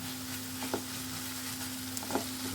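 Poppy seed and garlic paste frying in a pan hisses and sizzles steadily while a spoon stirs it, producing a few brief scraping knocks over the continuous bubbling.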